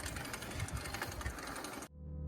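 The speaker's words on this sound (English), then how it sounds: "It's honestly starting to sound like I need a new bike." A worn bicycle rattles and clatters while being ridden, a steady mechanical chatter and grinding that cuts off abruptly near the end, leaving low hum.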